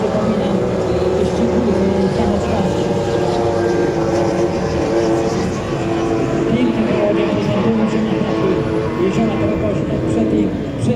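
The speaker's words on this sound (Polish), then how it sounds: "Idą takie potężne łodzie, pięknie to wygląda" Powerful P-750 class racing motorboats roar past one after another at a race in Rogoźno, their engines a loud continuous drone that dips briefly and swells again, with a voice talking over it.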